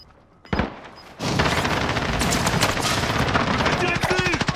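Automatic gunfire bursts in a Call of Duty Warzone match, a dense rattling volley starting after a brief thump, loud and continuous over game ambience.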